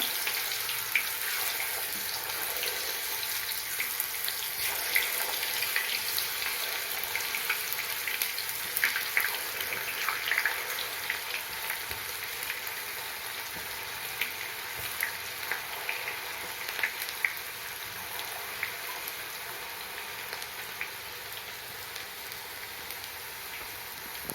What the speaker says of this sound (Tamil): எண்ணெய் காஞ்சி எடுத்து ஒன்று ஒன்றா போட்டுக்கலாம் இது போல் போட்ட உடனே மேலே வந்துடணும்